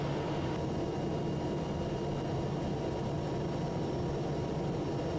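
Steady broadband roar inside the cabin of a TBM850 turboprop while it is hand flown on an IFR approach toward mountains in Tennessee, with continuous engine and airflow noise and no voices.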